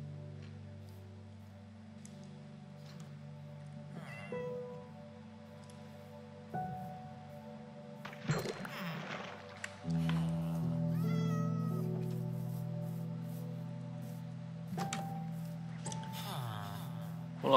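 Cats in the video game Minecraft meow several times in short calls scattered over steady game background sounds, with a faint voice now and then.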